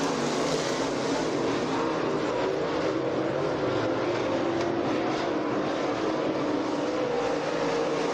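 Race cars at Electric City Speedway roar steadily and loudly throughout, a continuous dense engine drone from cars on the back straightaway and into turn three, with no talk over it.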